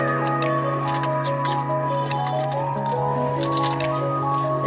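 Knife slicing vegetables for a puti fish chorchori, with onion stalks, flat beans, potato, tomato and green chillies cut lengthwise, giving soft crunching cuts repeated close by over a steady hum of background sound.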